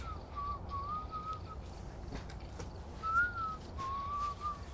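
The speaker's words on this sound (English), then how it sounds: "Why are you whistling?" A person whistles a wavering, simple tune in two phrases separated by a pause. The whistling is moderately clear over a low, steady background rumble during Phasmophobia gameplay.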